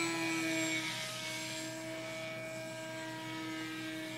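A Skywalker Sirius model airplane flies past with a steady electric motor and propeller whine, holding a sustained tone that eases off slightly after the first second, alone with no voices.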